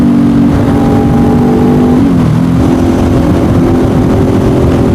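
Honda CBR500R motorcycle on a night ride, its engine droning loud and steady throughout with a brief dip in pitch as the rider shifts, all under heavy wind rush.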